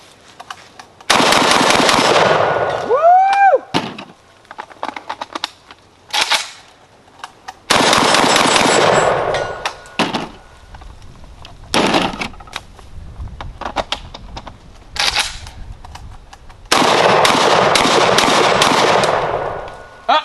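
JTS AK12 semi-auto 12-gauge shotgun firing ECI Super Sport 1-ounce #8 target loads outdoors, with loud close rapid bursts of blasts and several single shots separated by quiet gaps.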